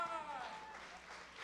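Graduation-ceremony audience at Rochester International Academy in 2015 applauds steadily through the short stretch, a moderately loud wash of clapping with a voice speaking over the start.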